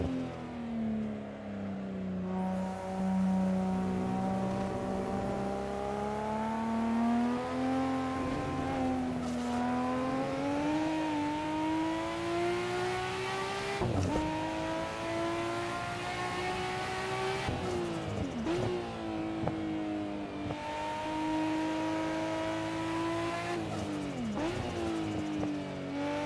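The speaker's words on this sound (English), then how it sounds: "Definitely has that JDM 6-cylinder tuner car sound to it." A JDM six-cylinder tuner car engine in the Assetto Corsa racing game with a legends mod, droning and howling continuously while revving up and down through gear changes, loud and steady with no talk.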